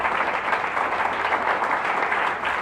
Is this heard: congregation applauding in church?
yes